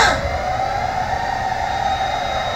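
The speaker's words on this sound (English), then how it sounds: "What does the siren mean?" A blaring alarm siren sounds in the video game Xenoblade Chronicles, a steady sustained wail that holds loud and unbroken from a sharp onset, alone with no voices over it.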